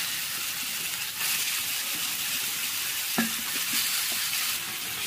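Chicken skin fries in a pan of tomato masala with ginger and garlic, a steady bright sizzle with a few stirring scrapes and clicks, close and continuous without talk.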